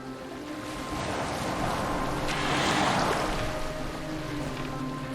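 A boat sailing across open water in the video game Assassin's Creed Valhalla, with a steady rush of waves and wind that swells in the middle and stays continuous, no voices over it.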